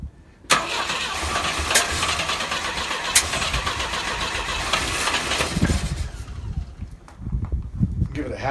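A Volvo 122 Amazon that has sat unused for 23 years cranks and catches, its engine running roughly and steadily up close with a few sharp clicks, then dropping to uneven idle pulses.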